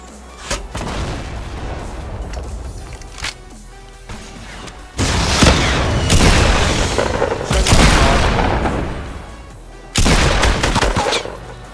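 Rocket explosions and gunfire in a Fortnite Battle Royale match with a guided missile, loud booms landing near at about five, eight and ten seconds amid scattered shots and crashes.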